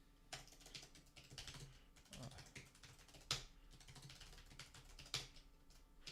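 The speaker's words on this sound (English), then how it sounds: "I type really loud." Fast, hard typing on a computer keyboard, the keys bottoming out in a dense clatter of close clicks with a couple of louder slams, no voices.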